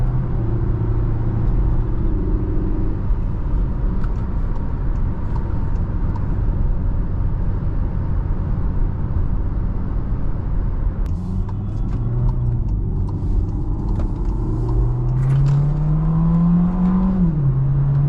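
MK7 VW Jetta 1.4T engine fitted with an ECS air intake and dual inlet scoop, a steady loud drone heard while driving, with the engine rising in pitch as it accelerates near the end.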